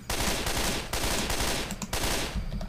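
SCAR rifle fire in Left 4 Dead 2, dense loud bursts of rapid gunshots with brief gaps between volleys, close and continuous.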